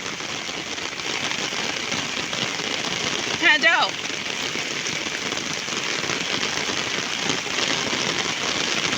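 Heavy rain pours steadily in a dense, continuous hiss, with a voice speaking briefly partway through.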